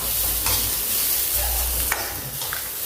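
Grated coconut sautéing in a pan for a drumstick leaf chutney, a steady close sizzle with scraping stirs throughout and no talking.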